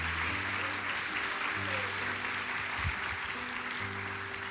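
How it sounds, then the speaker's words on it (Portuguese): Church congregation claps continuously in a sustained, even wash of applause throughout, with a faint low murmur or music underneath and a brief voice around the middle. "Você pode aplaudir o Senhor? Por favor, faça com alegria."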